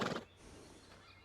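A horse neighs in Red Dead Redemption 2, one short whinny at the start that fades into quiet ambient game noise.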